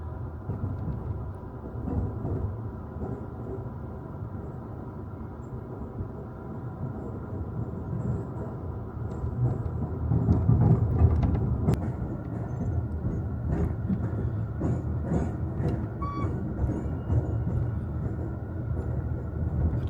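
City of New Orleans passenger train rolling into Chicago's station, a steady low rumble of wheels and carriages with occasional metallic clanks and squeals, continuous and fairly close throughout.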